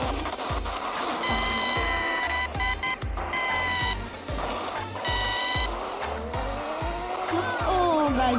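Loud, continuous engine roar of a car driven hard in a video game, with repeated tire squeals and skids and rising engine pitch as it accelerates, close and steady throughout.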